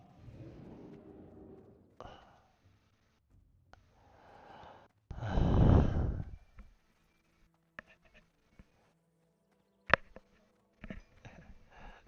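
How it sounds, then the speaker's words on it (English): Slow, deep breaths are drawn and let out close to a microphone, with one loud, long exhale near the middle, a few shorter breaths around it, and scattered small clicks and quiet gaps. "I'm deep breathing."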